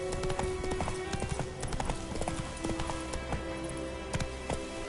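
Roach, a horse in The Witcher 3, gallops with rapid, loud, rhythmic hoofbeats pounding throughout, under a dense, busy in-game soundscape.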